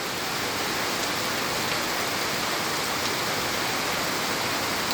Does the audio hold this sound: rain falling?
yes